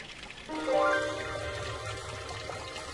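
Water pours and trickles through one of the Inca stone fountains at Machu Picchu, fed by a mountain spring, a steady nearby splashing flow with no voices.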